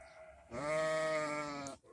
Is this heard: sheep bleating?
yes